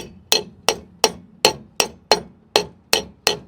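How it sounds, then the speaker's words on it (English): A hammer strikes the rear brake drum of a Volkswagen Jetta ten times in a steady, even rhythm, each blow a sharp, close metallic knock with a short ring. "I use my hammer to finish it up."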